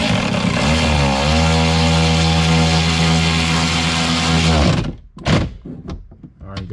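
A power tool drives and tightens bolts on a car window regulator, giving a loud sustained whirring drone that cuts off abruptly, followed by a few sharp knocks and clunks nearby.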